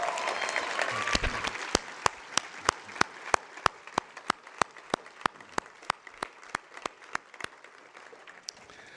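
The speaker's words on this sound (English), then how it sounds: "So I'm going to give her a round of applause right now." Banquet crowd applauds Naomi, a broad wash of clapping that thins out, leaving one nearby person clapping sharply and steadily at a regular pace over the dwindling applause.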